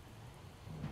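Rain falling in the Project Zomboid video game, a steady soft patter of drops on surfaces with a low rumble swelling slightly near the end.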